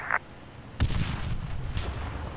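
Rifle gunfire in ARMA 3 sounds as a few sharp booming shots, one early and a louder one near the middle, followed by rumbling decay and another shot at the end.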